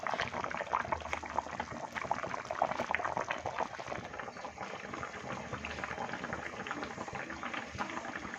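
Fish curry (Telugu fish pulusu) simmering in a pot, a steady dense bubbling and gurgling of boiling liquid heard up close and continuous, with no voices.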